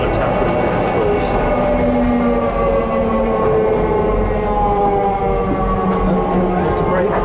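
A DLR light rail train rumbles loudly and continuously, with steady mechanical drone and squealing tones as it slows into a station, recorded close from inside the cab.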